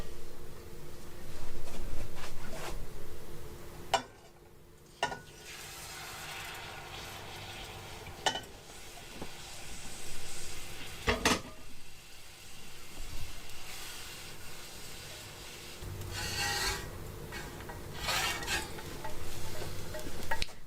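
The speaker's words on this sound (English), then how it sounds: "I'm going to go ahead and start adding some of my pan sauce" Pan sauce poured into pasture chicken in a hot pan, a steady sizzle with stirring and occasional utensil clinks against the pan, no talking.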